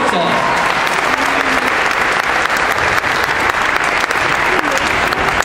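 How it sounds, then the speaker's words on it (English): A high school audience claps steadily for several seconds, a dense and fairly loud wash of applause that holds level throughout. "I think everybody deserves some applause, and then we can do another one."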